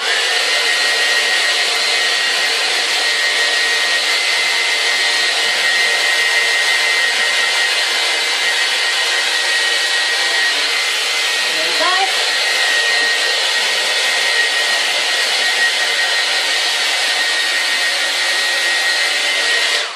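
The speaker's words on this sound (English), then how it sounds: "wiggle the hairdryer, wiggle it as you go so that it's not directing onto one bit" A hair dryer blows steadily and loudly on ostrich feathers for the whole stretch, a constant rushing whir with no pauses.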